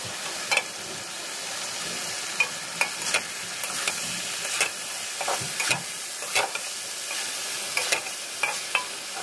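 Hilsa tail being stir-fried with bitter gourd and potato sizzles and hisses steadily in the pan, broken by repeated sharp scraping clicks of the spatula stirring at an uneven rhythm, with no voices.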